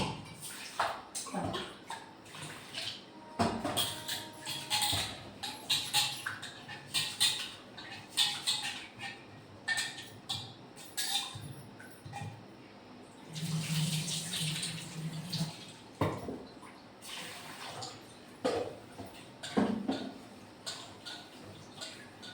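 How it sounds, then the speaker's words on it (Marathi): Rice is swished and rubbed in water with irregular splashes and gritty rustling, close and fairly quiet, with short pauses between bursts. "तर छान असे आपले तांदूळ धुवून झाले आहे 2 पाण्याने."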